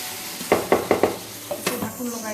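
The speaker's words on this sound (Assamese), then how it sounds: "এতিয়া খুব ল' ফ্লেমত এইখিনি ভাজি থাকিব লাগিব এনেকৈ।" Chicken frying in a pan on a very low flame for an Assamese dinner, with turmeric just added: a few sharp stirring scrapes in quick succession over a soft sizzle, close and moderately loud, with no talking.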